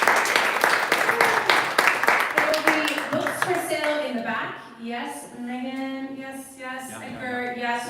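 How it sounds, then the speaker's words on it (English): Applause from a literary reading audience, dense clapping at first that gives way to a speaking voice carrying over a thinning patter of claps. "Round of applause for all of our future leaders tonight"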